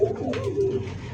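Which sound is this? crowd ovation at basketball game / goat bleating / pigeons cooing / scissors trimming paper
pigeons cooing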